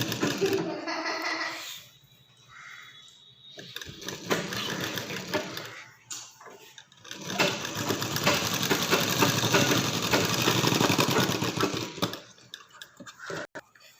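A sewing machine runs in bursts while stitching a sleeve seam on a garment, a dense rapid mechanical whir that starts, pauses and resumes for a long steady run, close and fairly loud.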